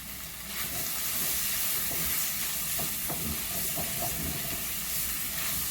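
Pumpkin being stirred in a pot while cooking Jamaican-style pumpkin talkari, with a steady steamy hiss and soft scraping under light clinks.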